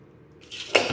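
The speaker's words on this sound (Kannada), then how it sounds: "ಸ್ವಲ್ಪ ಜಾಸ್ತಿನೇ ನೀರು ಹಾಕಕತ್ತೀನಿ" Water pours into a metal pressure cooker holding soaked horse gram, a rushing splash that starts partway through and grows louder, close by.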